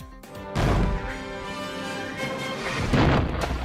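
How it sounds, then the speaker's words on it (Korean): A loud blast at night as an ATM is blown up inside a building, with a sustained roar and crash of shattering glass and debris, with no voices. "한밤중 굉음과 함께 폭발하는 건물"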